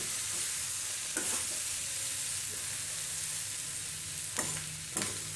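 Potato and capsicum pieces sizzle in a pan as they are stirred for a dry vegetable dish. A steady hiss of frying fills the clip, with a few scraping stirs of the spoon against the pan, heard close up and without talk.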